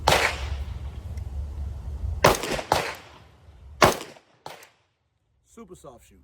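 AR-15 rifle firing several sharp, loud gunshots outdoors, two in quick succession and then spaced single shots, each with a short ringing tail.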